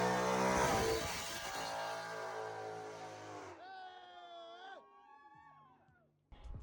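A Ford Mustang GT with an MBRP X-pipe exhaust on a 750-plus horsepower build revs loud and close with a raspy tone, then drops away into quieter, uneven sounds.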